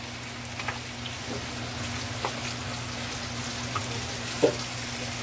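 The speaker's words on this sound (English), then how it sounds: "So my herbs is now frying up" Faint, steady sizzling of herbs frying in a pan, with a constant low hum beneath and a few soft clicks and taps.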